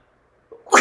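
A single abrupt sneeze from a woman, a short breathy intake followed by a loud explosive burst, close to the listener, with no talking over it.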